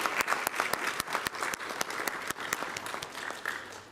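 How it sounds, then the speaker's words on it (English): Audience applause for a transport connectivity panel session, distinct close claps over a steady crowd clapping, lasting about four seconds. "So if I may request a big round of applause for the panel."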